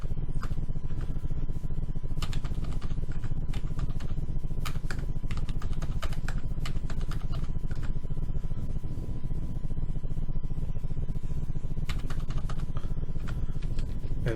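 Rapid typing on a computer keyboard during architectural modeling work in Revit, a steady stream of close, crisp key clicks with occasional louder taps, no talking.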